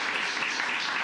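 An audience at a county commissioners court meeting breaks into steady, dense applause, a continuous wash of many hands clapping at fairly even loudness throughout the brief moment.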